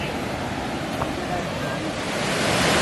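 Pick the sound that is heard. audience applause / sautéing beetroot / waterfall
waterfall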